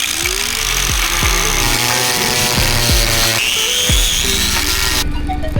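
A power tool cuts into a rotten boat deck, a loud, close, continuous motor whine with repeated pitch dips as the blade bites and frees, running steadily without talk.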